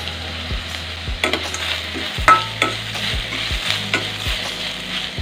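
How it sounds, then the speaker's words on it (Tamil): Onions sizzle and fry in a pan with cloves, cardamom, star anise and cinnamon, under a steady crackle broken by several scraping stirs of a spoon; no voice. "சேர்த்து நல்லா வெங்காயம் வதங்கிடுது"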